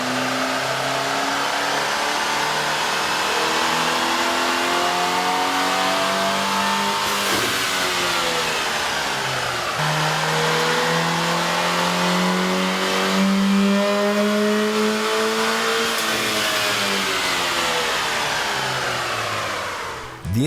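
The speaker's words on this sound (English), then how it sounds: "we ran the vehicle on the dyno to test the sound comparison versus the stock intake" Chevy Equinox with an aftermarket air intake revving on a dyno, the engine climbing through several long rising sweeps with brief drops between them, loud and close with a steady intake roar.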